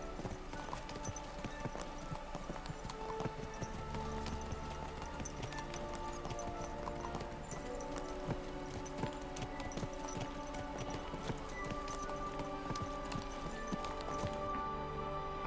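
Horse hooves clip-clop steadily along a path in the medieval game Kingdom Come: Deliverance II, a continuous close rhythm of hoofbeats over faint background game ambience.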